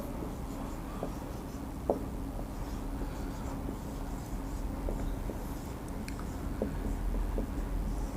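Pen writes out a definition by hand, faint scratchy strokes and occasional light taps over a steady background hum, with no talking.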